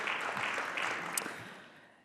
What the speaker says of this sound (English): Let's give Paavo a big round of applause